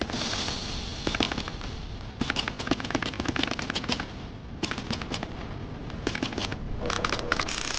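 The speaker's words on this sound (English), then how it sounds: "Now, full welding." Welding on the damaged body panels of a BYD car under repair gives a loud, steady crackle of sharp sputtering bursts that comes in runs with short pauses, close by and with no talk.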